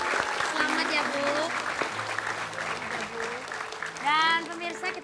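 An audience applauds a contestant on a TV challenge show after a three-ball juggling task. The steady clapping runs beneath a presenter's voice throughout and swells briefly near the end.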